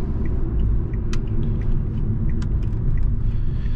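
A steady low rumble of road noise fills the cabin of a moving 2020 Fiat Egea sedan, with faint light rattles and ticks over the constant drone.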